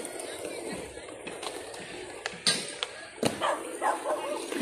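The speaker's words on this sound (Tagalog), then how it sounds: "May mga aso din dito guys. Ayan, sari-saring mga aso." Several dogs of mixed kinds bark in short, scattered yips and woofs across an outdoor park in Bago Bantayan, with a steady open-air background and faint voices around.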